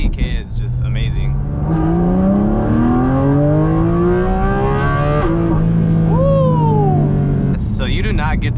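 A Porsche supercar with a PDK gearbox revs hard, its engine note climbing steadily then dropping through quick downshifts and rising again, loud and close from inside the cabin, with a voice briefly over it.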